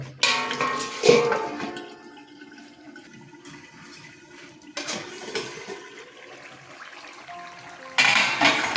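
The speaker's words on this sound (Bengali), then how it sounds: "এবার একটু ভালো করে নাড়িয়ে দিয়ে আমি আবার ঢেকে দেব" Chicken curry with potatoes being stirred in a pot and then covered, with scraping and clanking of utensil against metal, a watery sloshing texture, and a louder burst near the end as the lid goes on.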